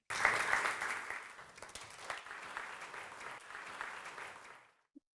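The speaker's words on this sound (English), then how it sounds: "give every one of you and everyone online a clap" A roomful of people at a children's reading charity celebration applauds, a moderate, dense patter of clapping that carries on evenly before stopping abruptly, with one stray sound just after.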